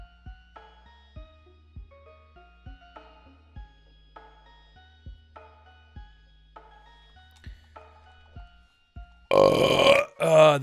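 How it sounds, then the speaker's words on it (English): A loud, close human burp breaks out near the end, rough and sustained for over a second, after a stretch of quiet, rhythmic background game music from Pokemon Emerald. "That was a burp."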